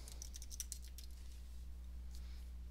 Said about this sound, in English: I'll do just that by typing a name of Financial.